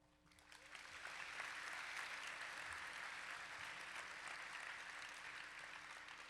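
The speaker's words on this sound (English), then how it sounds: "please join me in giving a round of applause to welcome our speakers for tonight's lecture" Audience applause welcoming the speakers at an evening University Lecture Series event on health and well-being at UT Austin: steady, dense clapping from a large crowd that swells within the first second and holds through the end.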